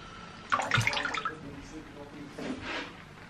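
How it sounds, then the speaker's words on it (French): A little water is poured over ramen noodles, with a short splashing pour up close followed by a softer trickle. "je vais ajouter un petit peu d'eau"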